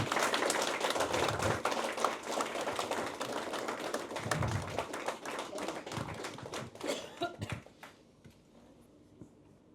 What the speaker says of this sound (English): you can keep clapping